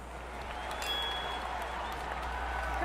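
Crowd applause at a marble race event, a steady wash of clapping and cheering at moderate distance that holds evenly throughout, with faint background tones.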